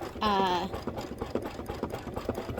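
An embroidery machine stitches with a short, steady mechanical whir, then settles into a softer, uneven rattling tap.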